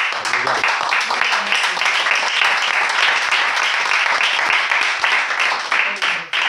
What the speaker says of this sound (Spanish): Dale un aplauso en esta hora